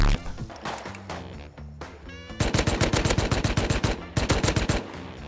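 Close AK rifle fire from the video game Rust comes as sharp cracks, first single and spaced, then rapid loud bursts of automatic shots with short gaps between them.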